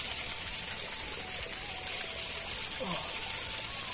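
Cold water rushes steadily along a small stream channel, a continuous close gushing and trickling wash that holds even for the whole stretch.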